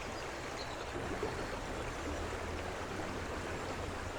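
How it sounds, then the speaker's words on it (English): Water flows steadily past an old mill at Wilsbridge, a continuous broadband rush with a low rumble. It sounds close and even throughout, with no talking. "And down here you can get really close to the water."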